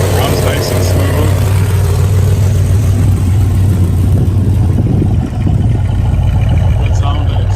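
A muscle car engine with power steering, power brakes and an aluminum radiator runs steadily through its exhaust, a loud continuous low rumble with a light rev near the end, with talk over it.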